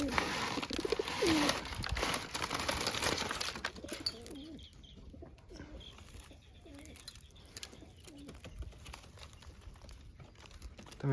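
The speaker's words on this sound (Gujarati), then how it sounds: "કબૂતર આવી ગયું છે." A pigeon coos at its nest in a village home, soft repeated low coos close by, with rustling and a brief crinkling noise early on and steady background hum throughout.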